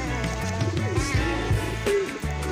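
White lakka pigeons coo softly in soft, rolling calls, with a few brief chirps scattered among them and no voices.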